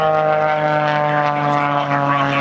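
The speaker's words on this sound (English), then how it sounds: "As he takes the airplane and spirals it up one more time on a spiraling tower of power, bumps across the top" Aerobatic airplane engine at an air show at Selfridge air base, a loud steady propeller drone with a strong even hum that swells slightly as the plane climbs in a spiraling maneuver, no talk.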